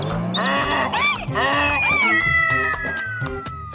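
A cartoon cat in a Hindi children's story gives several long, bending meows over bouncy background music.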